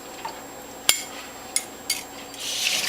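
A cleaning brush scrubs inside the feed tube of a Whole Health Foundation juicer used for apple juice: a few sharp knocks and scrapes, then a denser scratchy rubbing toward the end, close and fairly quiet.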